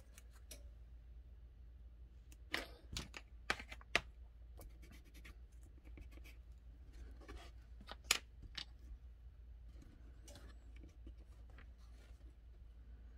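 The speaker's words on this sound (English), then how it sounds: "So what I'm going to do is start taping this." Tape is pulled and pressed onto a Sig P365 pistol part, giving quiet, scattered crackles, scratches and short tearing ticks at close range over a low, steady hum.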